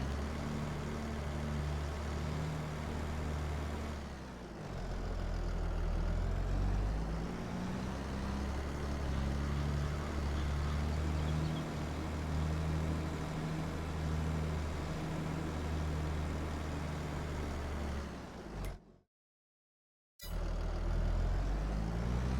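A tractor engine drones steadily in a farming video game, a loud continuous low rumble with a brief cut to silence near the end before it resumes.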